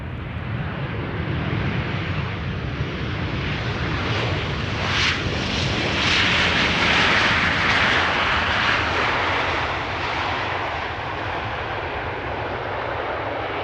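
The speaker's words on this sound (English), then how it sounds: "3006 arriving from Dublin, 737-800, 1 hour 10 minutes on the way, the EIEBG." A Boeing 737-800 arriving from Dublin at Amsterdam Schiphol passes with a building jet engine roar that swells to a loud peak midway and then slowly fades, alone without speech.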